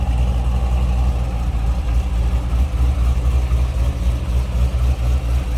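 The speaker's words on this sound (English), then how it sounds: "Throaty exhaust, no doubt about that." A 2003 Chevrolet Corvette Z06 coupe idling indoors with back doors open, its throaty exhaust a steady deep rumble, close and loud throughout with no talking.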